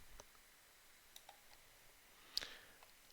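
A single faint, soft computer mouse click stands out in a quiet room, with a few even fainter ticks scattered around it.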